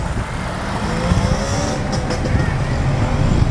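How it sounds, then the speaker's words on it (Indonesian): A 2005 pre-facelift BMW E90 320i with the N46 four-cylinder engine gives a smooth, steady exhaust rumble up close, moderately loud and even throughout. "Kita dengar suara knalpotnya."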